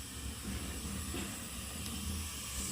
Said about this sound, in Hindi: ये मैंने गैस ऑन कर दिए